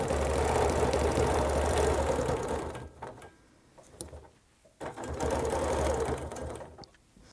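Quilt binding is stitched on a sewing machine: a loud, steady mechanical run, a pause of a couple of seconds with light handling noises, then a second sustained burst of stitching.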